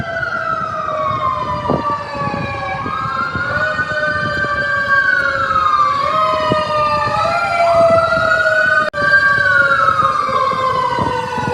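A wailing emergency siren sweeps up and down through city streets, loud and sustained for several seconds with layered rising and falling tones and a brief sharp dropout near the end.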